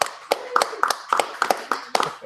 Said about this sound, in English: Round of applause for you guys.